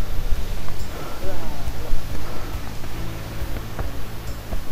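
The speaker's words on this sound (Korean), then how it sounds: "바람 소리가 들리시나요?" Wind rushes through a forest on a mountain trail at Guksabong, a loud, continuous broadband roar that swells and eases in gusts close to the microphone.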